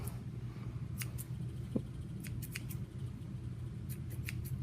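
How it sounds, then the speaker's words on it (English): Scissors snip yarn tassel strands on a handmade throw, several quick crisp cuts spaced irregularly, close and fairly faint over a steady low background hum. "just trim it off with the scissors"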